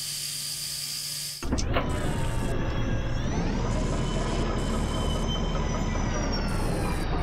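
A tram runs along rails in the game Kentucky Route Zero. A sudden loud start leads into a steady rumble with a rising metallic whine and squeal that holds on and on, close and with no talk over it.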